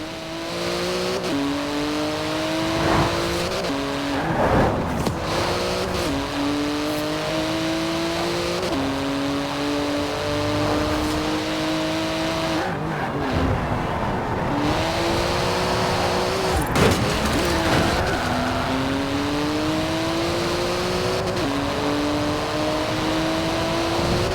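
Sports car in Forza Horizon 4 driving hard, its engine revving up through repeated gear shifts in a sawtooth pattern of climbing pitch, loud and close, with brief whooshes between pulls and no talking.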